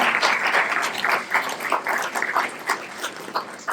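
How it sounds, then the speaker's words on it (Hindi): Audience members at a Shivratri gathering in Pilukheda, Haryana, clap in a dense, lively burst of applause, close and loud, sustained for several seconds with no voice on top. "तो मुस्कुरा के ताली बजाइए।"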